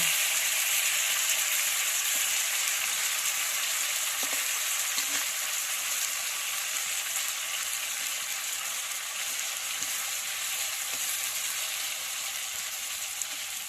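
Country chicken meat cooking in a pan, giving a steady, close frying sizzle with a fine, even crackle and a few faint stirring knocks, continuous throughout and free of talk.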